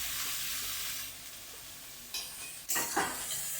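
Mixed vegetables sizzling in a pan, a soft steady hiss that swells into louder bursts of frying near the end as they are stirred, close and without speech.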